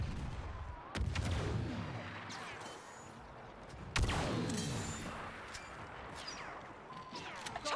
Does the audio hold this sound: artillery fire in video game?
yes